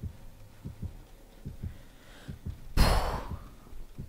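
Heartbeat terror-radius sound in the video game Dead by Daylight, a steady low thumping pulse in rhythmic pairs, moderately loud, briefly overlaid by a sharp burst of in-game noise.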